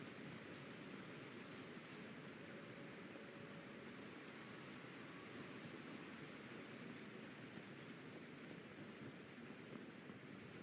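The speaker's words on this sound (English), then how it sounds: "Ah, a waterfall." A waterfall in the video game Skyrim gives a steady, even rushing roar that continues unchanged and fairly faint throughout, with no other sounds on top.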